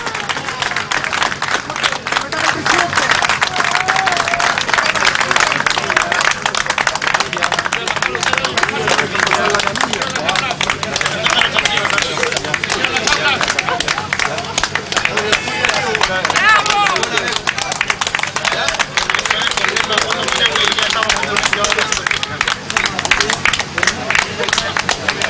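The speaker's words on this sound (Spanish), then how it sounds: "escuchen aquí alrededor mío y en las inmediaciones de toda la mina el aplauso." A large crowd claps and cheers around a mine site in Chile as a rescued miner emerges from the capsule, loud sustained applause mixed with hubbub and shouts, a nearby voice talking over it throughout.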